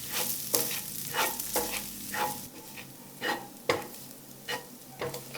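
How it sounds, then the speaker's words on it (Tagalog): Garlic and siomai sautéing in a pan, with repeated stirring scrapes every half second or so over a steady low sizzle, close up with no talking. "Then, maggisa tayo ng bawang. Nilagay ko na din yung siomai."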